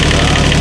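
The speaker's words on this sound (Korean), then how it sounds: "요거를 댄 상태에서 시동을 한번 걸어 볼게요" An excavator's diesel engine running loud and steady right after a cold-weather start, a dense low rumble with an even idling throb throughout the brief moment.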